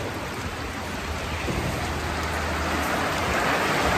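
Steady rain falling on a street after a four-to-five-month dry, hot season, a continuous loud broadband hiss with no talk over it, holding evenly throughout.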